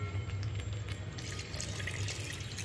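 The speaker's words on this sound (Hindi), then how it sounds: "अब ग्रेवी में पानी डालेंगे" Water pours steadily into paneer masala gravy in a pan with a soft, continuous splashing gurgle, close and fairly quiet.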